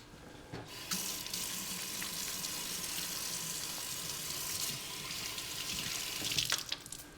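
Kitchen tap running steadily into a sink as hands are washed, a continuous close splashing hiss that starts abruptly and holds for several seconds with small shifts as the flow is disturbed.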